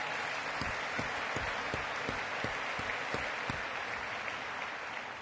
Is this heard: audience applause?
yes